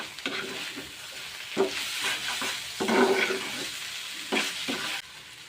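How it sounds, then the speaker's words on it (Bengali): Kanjol pieces coated in turmeric and chili fry in a pan, a soft, steady sizzle broken by bursts of scraping as a spatula stirs them every second or so. "আমার কাঞ্চলগুলো ভাজা হয়ে গেছে"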